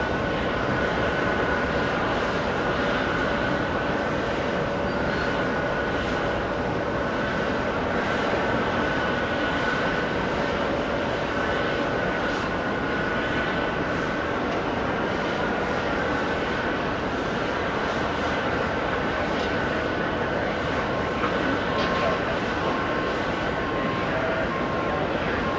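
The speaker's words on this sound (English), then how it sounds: "A CRJ 900, that one departing on 13 right" A Delta Connection CRJ 900 jet departs runway 13 right, a steady, loud roar of jet engines sustained for the whole stretch with a faint whine on top, a distant, broad rumble with no break.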